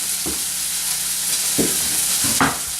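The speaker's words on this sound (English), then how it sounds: "Now I'm going to put the lemons in here." Lemons sizzle in a hot pan, a steady loud hiss of frying with a few stirring thumps and scrapes spaced through it, close up and without talk.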